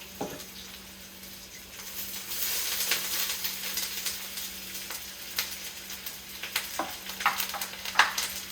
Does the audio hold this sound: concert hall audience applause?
no